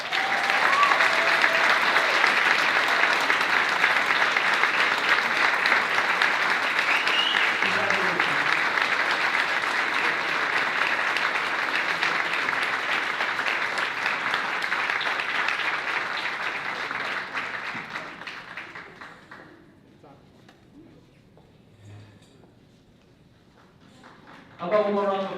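Audience at a school board meeting applauding the high school valedictorian, sustained loud clapping for about eighteen seconds before fading out, with a voice cutting in briefly near the end.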